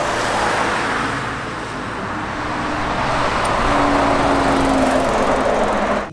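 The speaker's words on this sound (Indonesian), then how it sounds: "Wow, yang ini mobil box." A box truck drives past on a road, its engine rumble and road noise swelling gradually louder toward the end, with a faint tonal whine partway through.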